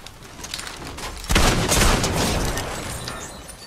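A burst of Fortnite gunfire erupts in a loud, dense cluster of shots and booms during a competitive match, tapering off after a couple of seconds over a busy game background.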